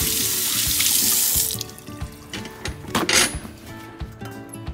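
Running tap water splashes into a sink as hands are washed, a steady broad rush for the first second and a half, then quieter dribbles and drips with a brief surge of flow near the three-second mark, no talking.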